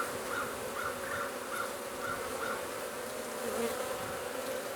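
Steady, dense buzzing of many honey bees close by, a continuous droning hum with no voices.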